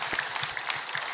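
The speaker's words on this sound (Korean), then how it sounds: "이 자리를 주신 하나님께 영광의 박수 올리겠습니다." A congregation at a Korean early-morning special prayer service in church bursts into dense, sustained applause that fills the room evenly for about a second, with no talking over it.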